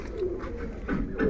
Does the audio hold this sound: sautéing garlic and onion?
no